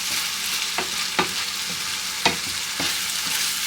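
Ground beef hamburger frying in a pan for Bolognese sauce, a steady close sizzle broken by several sharp scraping stirs of a utensil, with no talk.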